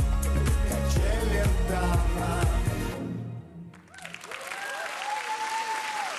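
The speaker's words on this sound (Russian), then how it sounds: "спасибо за ваши бурные аплодисменты" Loud, dense applause from a film festival audience in Moscow fills the first half, then stops abruptly and resumes as quieter clapping and crowd noise with a ringing tone.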